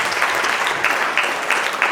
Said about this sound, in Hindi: एक बार जितेंद्र भाई के लिए हम जोरदार तालियां।